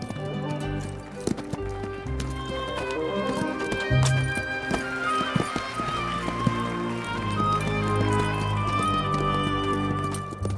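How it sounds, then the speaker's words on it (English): Horses leap and kick in a classical horsemanship display of airs above the ground, hooves clip-clopping and thudding amid dense, busy background sound with occasional whinnies, continuous and fairly loud throughout. "Horses naturally leap and kick when fighting."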